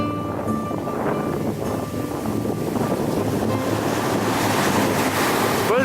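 Atlantic sea surf on a Portuguese coast, a steady loud roar of breaking waves with strong wind buffeting the microphone and no speech.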